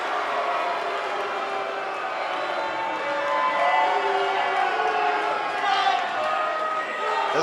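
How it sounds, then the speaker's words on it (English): A live Impact Wrestling crowd in an arena cheering and whooping, a dense roar that swells midway and stays loud, with a commentator talking over it. "This crowd's electric."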